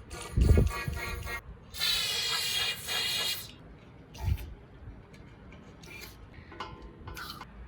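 WD-40-style lubricant sprayed into a salvaged bicycle frame: two steady, close hissing bursts of about a second each, followed by quieter handling clatter.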